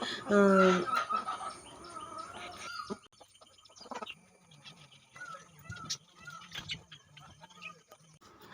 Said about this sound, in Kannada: ಈ ಕೋಳಿಗಳ ನಿಮಗೆ ಕಿರುಚಾಟ ಕೇಳ್ತಾನೆ ಇರ್ಬೋದು